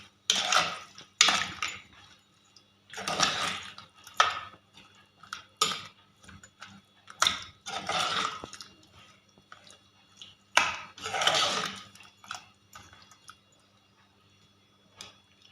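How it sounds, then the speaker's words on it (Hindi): Spices are mixed into raw mango chutney in a bowl, with a spoon scraping and clinking in repeated close, rhythmic strokes separated by short pauses. "अब इन सारे मसालों को अच्छी तरह मिक्स कर लूँगी।"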